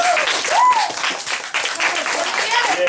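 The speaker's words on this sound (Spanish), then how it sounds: "¿Le damos un aplauso?" A class of schoolchildren applauds their teacher in a classroom, a steady wash of small hands clapping close by, with children's voices and whoops riding over it throughout.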